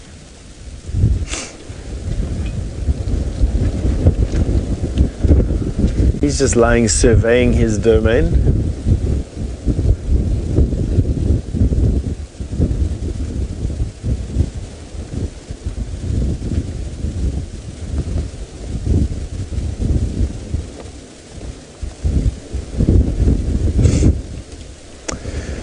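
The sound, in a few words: wind blowing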